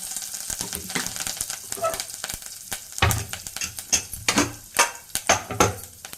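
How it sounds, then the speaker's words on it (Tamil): Fennel seeds, cinnamon and cloves fry in hot oil in a pan, giving a steady close sizzle broken by spoon scrapes and stirring clinks that grow busier and louder partway through. "சோம்பு பட்டை கிராம்பு பொரிஞ்சிச்சு"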